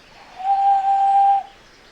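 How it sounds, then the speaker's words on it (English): A handheld whistle plays one steady, clear tone for about a second, loud and close, with a slight dip partway through before it cuts off. "So I play this whistle,"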